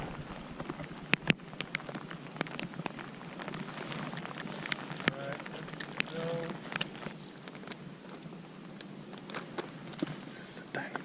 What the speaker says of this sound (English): Rain's really coming down.